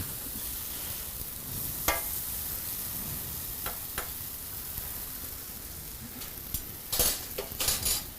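Mirepoix vegetables and quinoa cook together in a pan, giving a steady, soft sizzle broken by a few sharp clinks and scrapes of a utensil stirring, with no talk.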